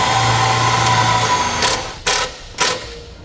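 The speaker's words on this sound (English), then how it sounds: "Now we'll use the provided self-tapping screw and a 5/16 inch either socket or bit driver." A power driver with a 5/16 inch socket or bit runs steadily as it drives a self-tapping screw into a vehicle while a towing wiring kit is being installed. The motor whirs, then gives two short bursts as the screw seats.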